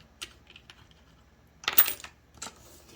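Two dice for a Shut the Box game clatter onto a surface, a few light clicks followed by a louder rattling tumble and a final tap as they settle, no talking.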